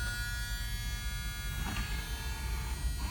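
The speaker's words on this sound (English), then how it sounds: "Power windows work." Power window motor on an all-original 1978 Pontiac Trans Am, a steady electric whir with a faint buzz at moderate level, lasting a few seconds without speech.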